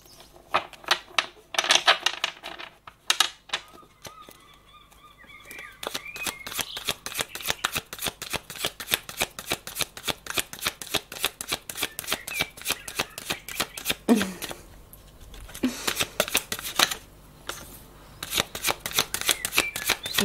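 A tarot deck shuffled for a reading, with loud, close, dense riffling bursts that keep going with only short breaks and occasional soft taps between runs.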